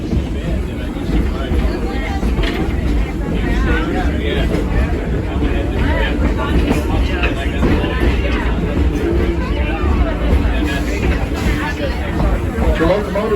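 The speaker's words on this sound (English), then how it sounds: "The locomotive that's pulling us today is a 1932 Edison." A passenger train pulled by a 1932 Edison steam locomotive rolls along in a loud, steady rumble, heard from aboard amid constant crowd chatter and babble that runs throughout.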